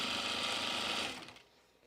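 A sewing machine stitches the two long sides of overall straps, right sides together, in a short loud whirring burst that slows and stops after about a second and a half.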